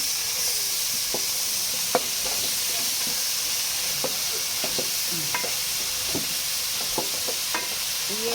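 Ginger paste sizzles and fries in a hot pan for chicken dum biryani, a steady hiss broken by scattered clicks and scrapes of stirring, close and alone with no talk.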